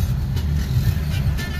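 A truck drives on an African road near Mikumi, Tanzania, giving a steady, fairly loud, close engine drone with low road rumble for a brief stretch and no speech.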